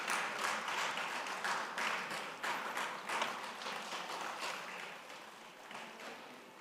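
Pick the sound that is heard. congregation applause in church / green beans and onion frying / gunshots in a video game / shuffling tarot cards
congregation applause in church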